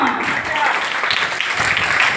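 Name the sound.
audience applause for children's performance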